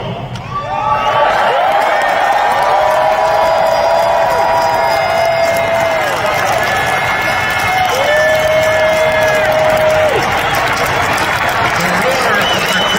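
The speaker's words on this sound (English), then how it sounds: "Mine is the roar of the crowd" A dense, loud hockey arena crowd roars and cheers without letup at a Buffalo Sabres banner ceremony for Rick Jeanneret, with sustained organ-like tones rising over the steady wall of voices.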